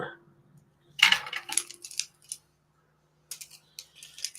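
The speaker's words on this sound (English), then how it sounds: "Pick it up with my scissors, and I'm just going to pop that underneath." Metal scissors are used to pick up a small glue dot during papercraft, giving light clicking, tapping and scraping snips in two short clusters separated by a quiet gap, close and soft.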